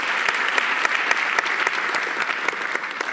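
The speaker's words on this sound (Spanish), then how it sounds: "Yo creo que se merece un aplauso." Audience applause following a talk on creativity, a dense, steady burst of many hands clapping at close range for about three seconds, loud and even with no voices on top.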